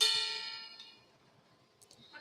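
A gong is struck once and rings out bright and metallic, then fades over about a second. A couple of faint, brief sounds follow near the end.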